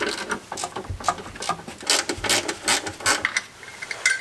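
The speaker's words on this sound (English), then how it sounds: "I'm just going to take that one out with a ratchet." A ratchet backing out a suspension bracket bolt on a Lexus IS300, with rapid, uneven clicking bursts up close that continue steadily, no voices.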